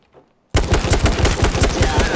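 Rapid automatic gunfire in a video game bursts in loudly after a brief near-silent pause, continuing as a dense, fast string of shots.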